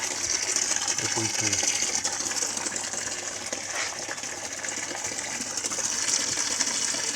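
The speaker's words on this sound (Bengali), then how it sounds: "এইখানে সব বোতলগুলো ভর্তি হবো" Water runs steadily into bottles being filled, a continuous gushing hiss with a brief voice murmuring early on.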